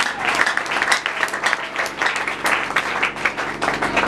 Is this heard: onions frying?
no